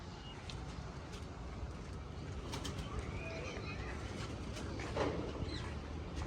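Pigeons in a flying loft built in Pakistani style, with soft cooing and bird calls rising over a steady, noisy background hum throughout.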